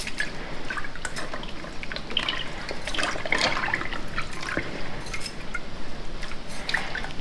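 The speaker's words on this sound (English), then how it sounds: "stick it into the soda ash mixture and press it in and kind of stir it around a bit" Linen curtain pressed and stirred in a soda ash mixture for ice dyeing: steady wet sloshing and dripping of liquid, close and continuous, with no talking.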